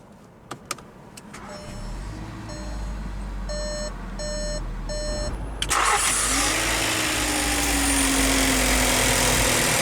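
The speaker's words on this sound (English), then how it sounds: "let's go ahead and start the engine, and it does have push-button ignition" A 2021 Volkswagen Jetta 1.4T SE starts by push-button ignition: warning chimes beep in short repeated bursts, then the starter catches and the engine settles into a steady idle hum inside the cabin.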